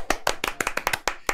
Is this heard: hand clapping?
yes